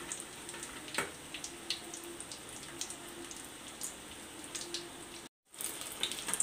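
Fish frying restaurant style in hot oil gives a continuous close sizzle with scattered crackles and pops, then cuts out briefly before the sizzle resumes.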